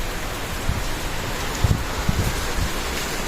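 Rain pouring outside a sari-sari store during a storm, a steady broadband hiss with a few brief louder patters and thumps mixed in, no talking.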